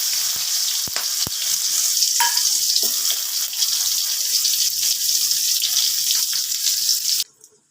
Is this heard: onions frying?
yes